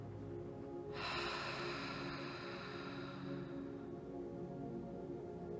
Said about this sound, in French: Comme faire la brume sur un miroir.